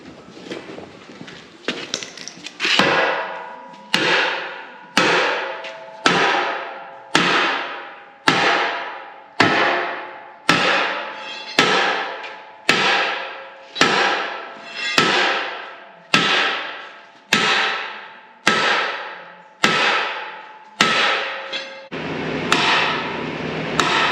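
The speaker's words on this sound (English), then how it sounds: "Probably need a sledgehammer, just beat it." Sledgehammer pounding on metal in a repair shop: about twenty heavy, evenly spaced strikes, loud and close, each ringing out briefly before the next blow, with no talking.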